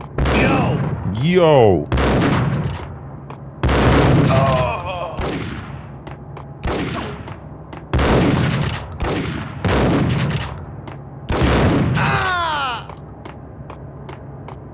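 Repeated bursts of gunfire in the 2001 PS2 video game Max Payne, loud close shots arriving in clusters with thuds and echoes, while a voice speaks briefly over the action.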